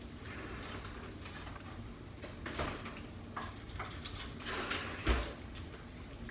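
Spoon fetched from a kitchen drawer while cooking Puerto Rican–style spaghetti and pork chops, with a run of soft clinks, clatters and rattles of cutlery and dishes, fairly faint, several sharper taps near the end, no talking.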